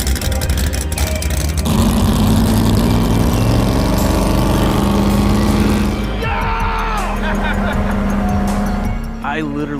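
A truck engine fitted into an old boat runs loudly and close, a heavy low rumble and drone that holds steady, with people talking over it.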